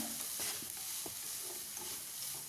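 Onion and cabbage with garam masala and turmeric are stirred in a pan, giving a soft, close scraping and faint sizzle with a few light knocks over a short stretch.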